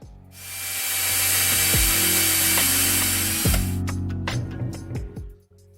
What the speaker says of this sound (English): I'm going to use a step drill bit